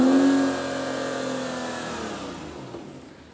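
Aston Martin V12 Vanquish engine at full revs, a loud close wail that eases off and winds down over a few seconds, with no talk.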